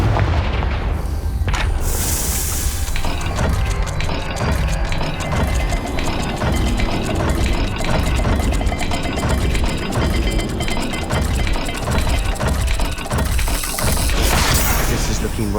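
Explosive spell blast cast in the Hogwarts Legacy video game, a loud boom inside a dense, continuous wash of game music and effects with rumbling low end throughout, with no single blast clearly standing out.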